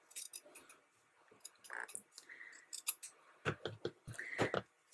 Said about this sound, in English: The first thing you're going to want to do is cut off the top band of your sock, just like this.